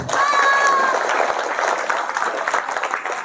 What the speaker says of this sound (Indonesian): Tepuk tangan buat Lampung.